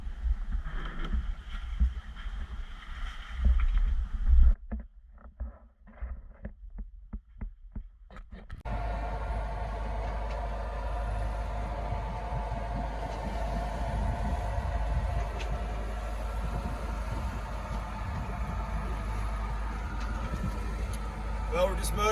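A sailboat motors under engine power on a solo passage from San Andres to Panama. Wind and rustling come first, then a steady low engine drone takes over and runs continuously for the rest of the clip.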